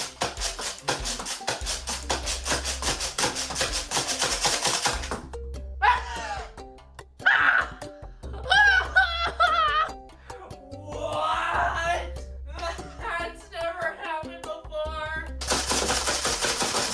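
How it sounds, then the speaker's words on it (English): A Nerf Corruptor bolt-action blaster fires in bursts of rapid mechanical clatter at the start and end, with scattered clicks and rattles between them as the bolt comes loose and falls off, close and fairly loud. "on their newest model, the Corruptor, the bolt literally fell off during firing"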